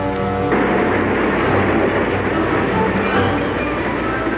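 Express train from an animated cartoon approaching, a loud, dense rushing rumble with clattering wheels that fills the whole moment, with a steady tone fading out at the start.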